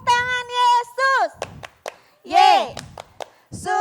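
Sharp hand claps from children during a Sunday school church song, a few distinct claps spaced between loud sung or chanted phrases.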